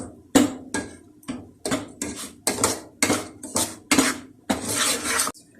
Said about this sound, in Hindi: सूजी मैं भून रही हूँ अच्छी तरह घी में।